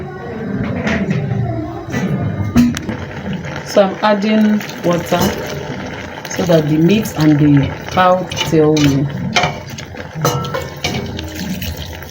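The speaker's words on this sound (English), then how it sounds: "So I'm adding water" Water is poured into a pot of meat and cow tail while cooking Afang soup, a soft running and splashing heard beneath steady talking throughout.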